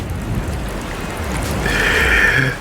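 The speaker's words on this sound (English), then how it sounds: "what a blessed day to sit back and enjoy the rain." Steady rain falls in a continuous broad hiss, even and moderately loud throughout, with a faint higher tone briefly rising near the end.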